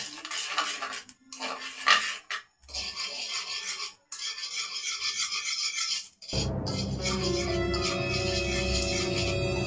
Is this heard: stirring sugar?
yes